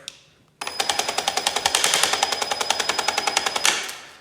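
An EGO ST1510T 15-inch cordless string trimmer with a faulty autowind starts abruptly after a click and runs for about three seconds with a loud rapid rattling pulse before cutting off, close up.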